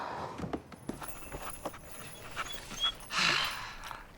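A dog pants in quick, close, rhythmic breaths, with a few soft footsteps or hoof-like taps and a brief rustle near the end, no speech.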